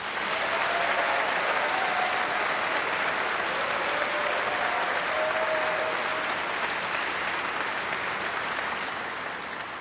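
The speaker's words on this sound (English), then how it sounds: "So let's give everybody a big clap." A graduation ceremony audience gives sustained, even applause for about ten seconds, a dense wash of many hands clapping in a large hall, with no one speaking over it.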